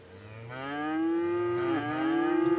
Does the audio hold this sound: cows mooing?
yes